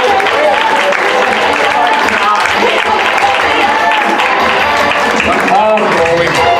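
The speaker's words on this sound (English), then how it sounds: "And round of applause for volunteer Cam." An audience at an improv comedy show applauds a volunteer, a steady wash of clapping and crowd noise running under a performer who keeps talking over it throughout.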